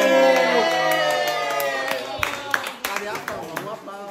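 Several sharp hand claps ring out for a children's quiz champion, following a lively, sing-song voice and joined by excited young voices.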